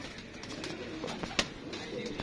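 Pigeons coo softly nearby in a short, continuous stretch of low, throaty calls.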